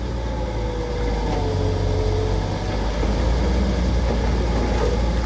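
Dynapac CA30IID road roller with a freshly replaced diesel engine idling smoothly, a steady, moderately loud low drone with faint mechanical whine, no voices.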